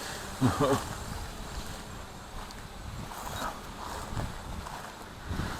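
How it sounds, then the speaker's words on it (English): Wind buffets and roars steadily outdoors during drone flights, with a few brief louder gusts and faint water noise underneath. "it is quite windy"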